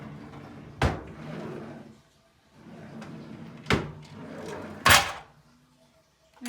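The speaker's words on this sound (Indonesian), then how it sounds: "Ini lacinya ada 3 nih." Drawers of a child's wooden study desk opened and closed, three sharp knocks with sliding rumbles between them, close and fairly loud with no talking.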